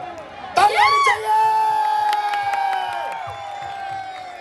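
An audience at an outdoor Pakistani comedy night in Riyadh's Suwaidi Park lets out a burst of whoops and rising cheers, then sustained shouting with scattered clapping that gradually thins out.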